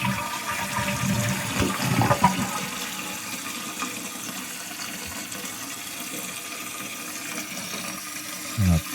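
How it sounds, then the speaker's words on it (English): A household toilet flushes with a rushing surge of water, then a fill valve refills the tank with a steady hiss and trickle, close and fairly loud at first, settling into quieter filling. "Now I'm going to flush it again just to double check"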